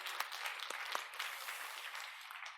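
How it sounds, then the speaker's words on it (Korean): A church congregation claps and applauds through a Sunday service, a dense, even wash of hand claps that holds steady at moderate loudness with no voices over it. "박수 한번 더 치겠습니다."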